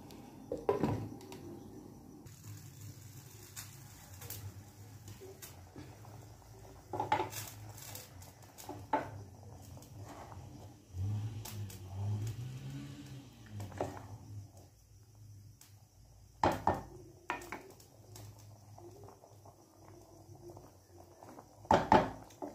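Metal pots and a lid clank in a kitchen as rice is set to boil, with several sharp clatters spread through a quiet stretch and soft handling noise between them.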